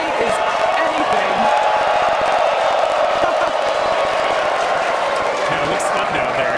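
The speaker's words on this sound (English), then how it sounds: "Everyone's cheering as we get into T-minus 5 minutes" A large crowd cheers and whoops continuously ahead of a SpaceX Starship rocket launch, a dense, steady wash of distant voices and claps with a voice speaking over it.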